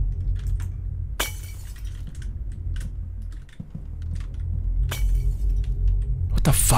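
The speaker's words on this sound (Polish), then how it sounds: "To on rozczaskał sobie okno teraz?" Window glass shatters in the Hello Neighbor pre-alpha game, with sharp crashing bursts repeating several times against a low, steady background hum.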